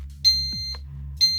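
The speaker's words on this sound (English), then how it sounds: "You're probably wondering why is that beeping? Because the door is open." A UVC sterilizer cabinet with its door left open gives short electronic safety beeps when powered on, two clear tones about a second apart over a steady low hum.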